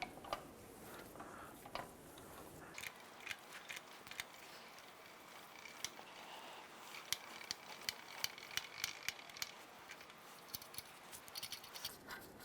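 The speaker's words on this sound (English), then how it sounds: "let's go ahead and release that spring tension" Spring tension being released on a rear strut assembly for a 2006-2013 Chevrolet Impala: a run of quiet, close ratcheting ticks and clicks from the spring compressor tool, with small metallic scrapes.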